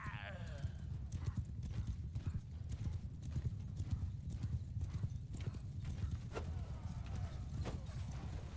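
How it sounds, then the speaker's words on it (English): Horses gallop in a steady, dense drumming of hooves that continues throughout, with a din of voices in the background, as waves of horse archers charge in a battle in the video game Bannerlord. "Here comes the next in their never-ending wave of horse archers."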